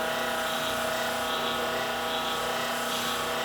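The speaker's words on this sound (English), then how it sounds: "So, Spindle Sander." A steady, loud mechanical whir of a spindle sander motor runs continuously, with a faint pulsing rhythm and no talking.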